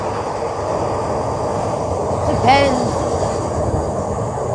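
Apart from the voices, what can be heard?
train passing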